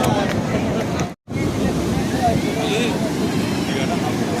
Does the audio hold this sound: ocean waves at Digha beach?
yes